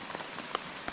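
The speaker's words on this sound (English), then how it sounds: "But hopefully this rain stops soon." Rain pattering steadily on a camping tarp at night before daybreak, a dense even patter with a couple of slightly louder drops standing out, close and continuous with no talking.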